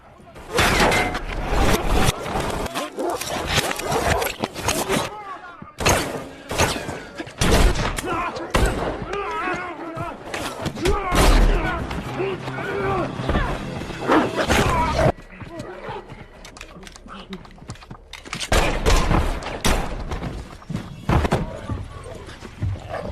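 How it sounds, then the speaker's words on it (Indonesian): A movie shootout from John Wick 3 fills the scene with dense, rapid bursts of gunfire and crashing impacts, loud and continuous for long stretches with brief lulls, layered with a music score and effects. "mereka berdua pun terlibat baku tembak dengan anak buah si pria"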